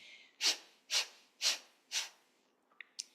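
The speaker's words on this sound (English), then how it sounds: "Breath of fire is closed lips, pulsing the belly towards the spine." Rapid breath of fire yoga breathing, forceful exhales pushed through the nose with closed lips as the belly pulses toward the spine: four close, evenly spaced sharp nasal bursts, then two shorter, fainter puffs, with no talking.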